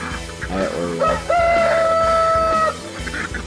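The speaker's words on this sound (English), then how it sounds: "Little rooster, chickens back there." A small farmyard rooster crows once, loud and close, one long held call after a few short clucks, with other chickens murmuring behind it.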